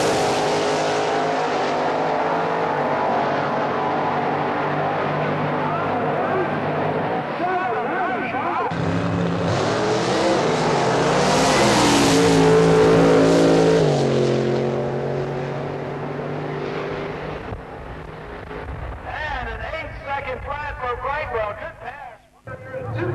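A supercharged big block Chevrolet drag racing car launches hard off the line, a loud roaring engine swelling and then fading into the distance while an announcer talks over it and crowd noise lingers.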